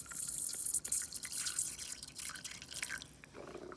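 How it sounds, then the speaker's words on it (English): Water poured into a beaker holding a single piece of solid, with a close, steady splashing and dripping patter that runs throughout and ends in a brief louder splash; nobody speaks. "I'm going to add some water."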